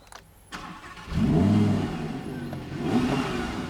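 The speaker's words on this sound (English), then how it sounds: "I mean a car with a naturally aspirated V10 engine" A 2022 Audi R8 Coupe V10 Performance RWD with a naturally aspirated V10 engine fires up and revs, a loud throaty surge that settles, then rises again, heard close with no talking.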